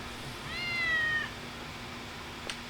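A single clear cat meow rises and falls over about a second in a scene from the Chainsaw Man anime, followed by a faint tick against a quiet background.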